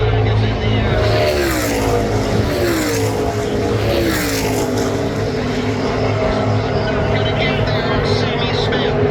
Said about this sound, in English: I will stand back and let the engines roar.